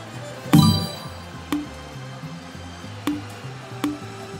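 Bell-like dings in the Monopoly Big Baller live game show: one bright strike followed by three lighter chimes at roughly one-second intervals, ringing over a low musical hum with no talk.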